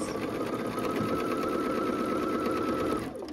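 A sewing machine stitches quilt pieces together, giving a close, steady, fast whirring hum for a few seconds with no talk, then easing off at the end.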